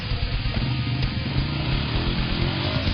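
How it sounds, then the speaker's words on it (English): A 2009 Polaris Scrambler 500 ATV engine drones steadily and loud in all-wheel drive while backing into a wood chip pile, a continuous low rumble with no pause through the whole stretch. "we backed the Scrambler up and hit it again, this time in all-wheel drive"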